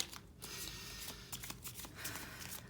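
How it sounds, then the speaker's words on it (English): Tarot cards are shuffled by hand for a reading, giving a faint, close, continuous papery riffle and rustle with no voices. "Okay, shuffle, shuffle,"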